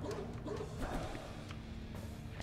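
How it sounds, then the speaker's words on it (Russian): Dogs barking in the side-scrolling action game Valfaris, a busy run of yaps and barks layered over a steady metal soundtrack, with no talk. "Целая куча псин."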